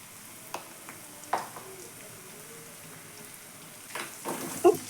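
Ginger garlic paste and spices frying in oil in a pan, a soft, steady low sizzle with a few light pops and clinks, fairly faint and with no talk.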